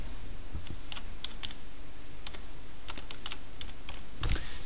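Typing on a computer keyboard, with scattered clusters of close, crisp key clicks at an uneven pace over a steady background hiss and no voices.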